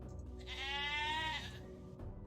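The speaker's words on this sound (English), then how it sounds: "No goat, you be the goat." A goat bleats once in a long, wavering cry lasting about a second, loud and close with no talk over it, likely a triggered sound effect during a Lego building stream.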